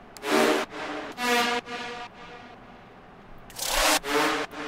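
Reverb-drenched synth lead stabs from a future bounce track made in FL Studio ring out in a short sequence of bright, harmonically rich bursts with washy decaying tails, pausing briefly before two more hits.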